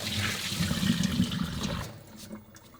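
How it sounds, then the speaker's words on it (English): Water splashes and pours briefly over rice being washed, a short gushing rush that tapers off into quiet dribbles. "he washes the rice and drains it as many times as necessary until the water is clear"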